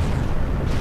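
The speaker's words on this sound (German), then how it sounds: "Und Feuer. Und Explosion." Explosion in the video game Crysis, a loud deep rumbling boom that fills the short moment with heavy low-end blast energy and no speech.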